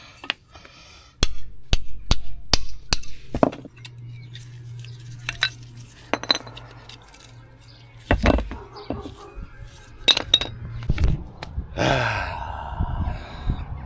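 A big hammer strikes car brake parts while the caliper carrier is being worked off: a series of sharp metallic blows, several quick hits early, more scattered later, loud and close in a garage, with a few clanks between.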